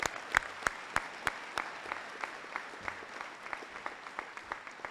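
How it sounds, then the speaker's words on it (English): Audience applause at a community salute-to-service event, a steady wash of many hands clapping with sharp individual claps popping through, moderately distant and sustained throughout. "I'd love to give a round of applause for them"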